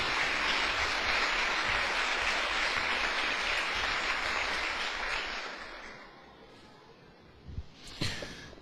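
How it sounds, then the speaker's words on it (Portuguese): A church congregation applauds steadily for several seconds, the clapping dense and sustained before fading out near the end, followed by a few scattered sounds. "Dê uma salva de palmas para o Senhor Jesus."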